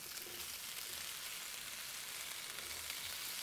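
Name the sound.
food sizzling in a skillet in the video game Cooking Simulator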